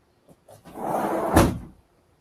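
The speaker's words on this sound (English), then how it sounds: "Let me close this door." A door is pushed shut with a brief scraping swing and a firm thud near the end, close by in a quiet room.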